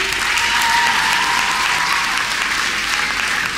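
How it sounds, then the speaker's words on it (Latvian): Dense, sustained applause from a crowd, loud and even throughout, with no pauses. "Aplausi, aplausi."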